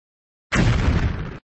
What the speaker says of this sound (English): We destroyed Pizza Hut with a tomahawk.